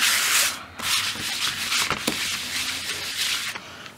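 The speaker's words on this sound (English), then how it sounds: "I'm just going to rub the ink pad" An archival ink pad is rubbed back and forth over a paper box cover, producing close, dry scratchy swishes in repeated strokes with brief pauses between them and no talking.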